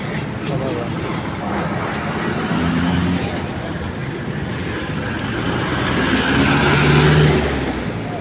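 Road traffic in a jam after a collision involving a pickup truck: a steady, dense rumble of nearby engines and tyre noise that swells slightly toward the end, with no clear voices.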